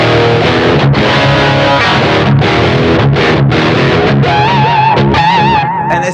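Harley Benton DIY kit electric guitar played through a low-gain, effects-laden tone, with loud sustained chords giving way to squealing pinch harmonics that waver near the end.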